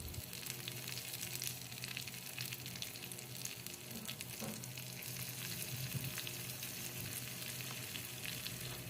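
Cumin, black pepper, chopped ginger, green chili and curry leaves fry steadily in hot oil for a tempering for kodo millet pongal, a continuous close sizzle with faint stirring throughout.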